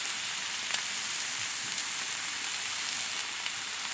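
Sirloin steaks sizzling on a flat-top Blackstone griddle, a steady close hiss of frying with occasional small pops and crackles, no talking.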